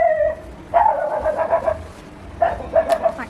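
A dog gives a few short barks in two bursts, moderately loud and close, with quiet gaps between them and no talking.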